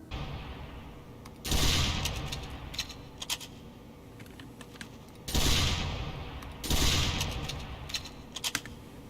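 Two loud double-barrel blasts from the Force-a-Nature scattergun in Team Fortress 2 ring out, each followed by a second close shot, with light clicking and game noise between them.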